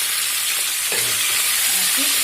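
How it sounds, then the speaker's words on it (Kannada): Chicken pieces fry with onion, salt and turmeric in a pan, giving a loud, steady sizzle with a few soft scraping stirs, no voices. "ಹಾಕಿ ಚೆನ್ನಾಗಿ ಫ್ರೈ ಮಾಡ್ಕೊಳ್ಳೋಣ"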